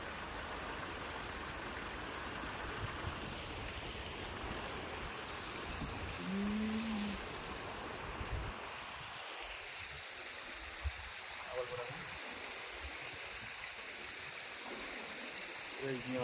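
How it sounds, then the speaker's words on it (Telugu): Continuous rushing water from a small waterfall beside a house, steady and fairly close, with a few faint voices briefly mixed in. "వాటర్ ఫాల్ చూసిందా? చిన్న వాటర్ ఫాల్."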